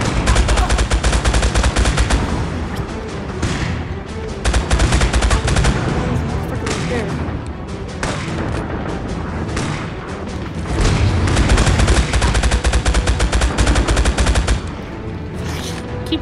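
Dense, sustained video-game gunfire with rapid machine-gun bursts and heavy booms, loud and continuous throughout, with brief shouted voices in a battle setting.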